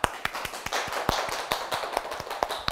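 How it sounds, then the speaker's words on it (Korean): A small audience at a lecture on gender equality and civic education claps to welcome the speaker, with distinct, sharp claps in an even rhythm, close and moderately loud. "큰 박수로 맞이해 볼까요?"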